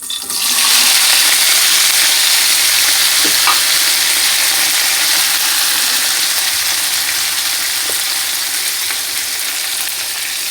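Yardlong beans fry in oil left over from frying prawns, a loud, close, continuous sizzle and hiss that holds steady throughout, with a few faint clinks.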